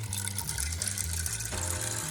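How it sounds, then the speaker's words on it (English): Water pours steadily into a pressure cooker pot holding a pound of pasta shells, a close, continuous gushing splash with its pitch shifting as the pot fills. "1 pound of pasta is going in my pot. Along with 6 cups of water."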